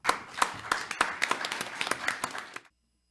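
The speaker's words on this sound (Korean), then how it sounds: "박수로 맞이해 주시기 바랍니다" An audience at a parliamentary forum on school labor rights education claps to welcome a speaker, a brief burst of dense, moderately loud hand claps that stops abruptly into silence.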